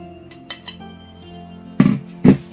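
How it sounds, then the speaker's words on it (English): A whisk mixing sugar and butter in a bowl for a Nigerian cake, with light scrapes and taps on the bowl and then two louder knocks of the whisk against it. "We need to mix our sugar and our butter together."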